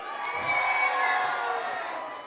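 A large festival crowd at a Nepal festival in Melbourne cheers and shouts together in a sustained, bright wash of voices, moderately loud and slightly distant.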